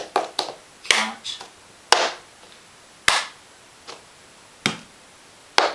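Plastic cups tapped on a tabletop and hand claps in a slow, spaced cup-song rhythm: a handful of sharp, separate hits with short pauses between them, close and clear, without speech.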